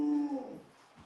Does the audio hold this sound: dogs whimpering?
yes